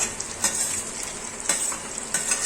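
Whole spices — cumin seeds, a cinnamon piece, green chilies, black pepper and cloves — stirred in a hot pan for Indian dum aloo, sizzling steadily with several sharp scraping strokes of a spoon against the metal.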